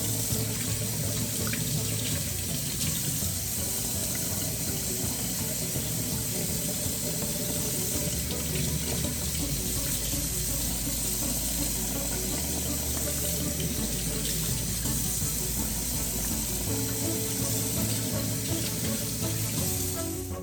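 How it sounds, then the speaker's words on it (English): Tap water runs steadily into a sink while raw chicken wings are rinsed, a loud continuous splashing rush with slight shifts as the meat is moved under the stream. "Finish rinsing the chicken."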